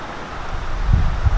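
Wind buffeting a microphone outdoors, a steady low rumble that swells into stronger gusts toward the end, with faint rustling in the background.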